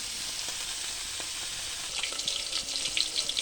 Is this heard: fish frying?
yes